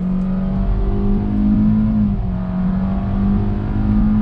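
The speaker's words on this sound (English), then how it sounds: "still just a very, very loud 4-cylinder sound" A 2020 Hyundai Venue's loud four-cylinder engine drones at a near-constant high pitch under throttle, its tone holding steady as a continuously variable transmission keeps revs up.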